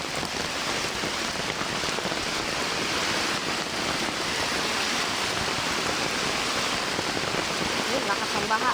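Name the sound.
heavy rain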